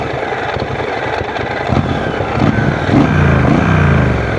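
A 1200cc motorcycle engine running loud and close, a rough mid-range drone that swells into a stronger rev partway through and holds there, with no voices.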